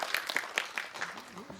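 Audience applause at a Netflix series Weak Hero Class 1 guest-visit screening event: quick bursts of crowd clapping with a voice speaking over them, fairly close.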